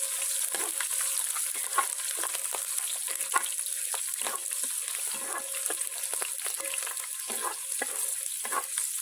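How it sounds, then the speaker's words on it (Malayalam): Chicken stew ingredients frying in a pan are stirred: a steady hiss of sizzling oil, close up, broken by repeated short scrapes and taps of the spoon. "ഇത് ചെറുതായിട്ട് ഇളക്കി കൊടുക്കണം."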